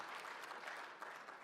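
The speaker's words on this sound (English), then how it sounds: "round of applause, please" An audience at a leadership summit applauds, a brief, fairly faint burst of steady clapping from many hands, heard from a distance with no voices over it.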